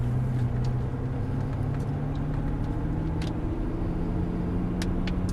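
A Lamborghini Murciélago eases out of a garage in first gear, its engine giving a steady, close, low rumble with no break or rise in pitch.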